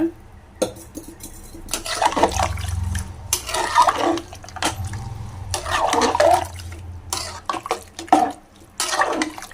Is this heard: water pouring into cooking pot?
yes